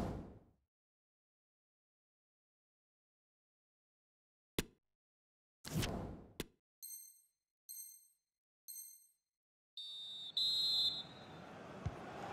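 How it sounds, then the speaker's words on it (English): A referee's whistle marks halftime in a FIFA 23 football match, a short series of sharp shrill blasts followed by a longer trill. The whistling rises over brief clicks and a growing crowd roar at the end. "And so the halftime whistle is gone."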